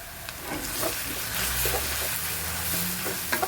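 Sardine filling for popiah stir-fried in hot oil: a steady close sizzle with scraping and clinking stirring strokes throughout, no talking.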